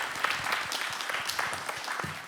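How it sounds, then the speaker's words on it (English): Audience applause fills a symposium hall, a dense steady patter of many hands clapping at moderate level, with a faint voice underneath. "Big round of applause for Francis."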